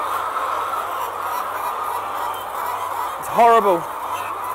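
Egg-laying hens fill a large egg farm with a constant dense murmur of clucking, and one loud, close squawk rises and falls near the end. A person speaks briefly over the flock.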